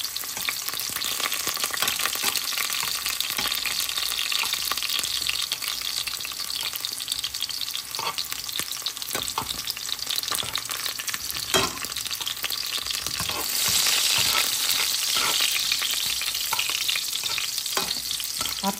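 Carrots fry in a pan for Filipino pork caldereta, a dense continuous sizzle with intermittent stirring clatter that swells a little toward the end.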